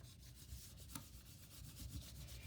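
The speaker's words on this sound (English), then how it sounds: "And now I will grab my spoon and rub away" Spoon rubbed by hand over paper laid on an inked printing block, a soft, quiet, continuous scratchy rubbing with rhythmic strokes.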